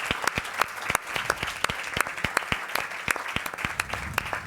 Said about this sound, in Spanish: un aplaudiment per la Menorca talaiòtica i la declaració de Patrimoni Mundial